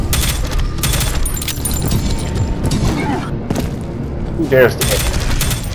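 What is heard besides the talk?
automatic gunfire in the video game Prodeus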